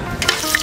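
Cinnamon and cloves sizzle in hot oil for a home-cooked mutton biryani: a short, steady frying hiss with a couple of brighter crackles, close and fairly loud.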